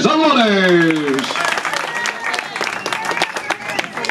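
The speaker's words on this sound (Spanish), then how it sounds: "El aplauso para el licenciado Andrés Álvarez" Audience applause at the inauguration of the Julio Recio boxing club, a scattered round of clapping from a community crowd that rises after a spoken introduction and continues unevenly with some voices mixed in.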